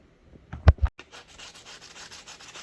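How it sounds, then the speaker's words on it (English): Sandpaper scours the surface of a shoe sole after the old sole was chiseled off. A few knocks come first, then a run of quiet, steady rasping strokes close by. "Then I used some sandpaper to get the remaining residue off and roughen up the surface a bit"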